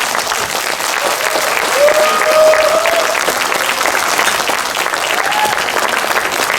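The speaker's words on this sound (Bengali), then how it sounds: "বাচ্চাদের জন্য আরেকবার জোরে হাততালি প্লিজ" Loud, sustained applause from an audience cheering the children after a kids' drama performance at a community cultural event, steady clapping filling the hall with crowd noise throughout.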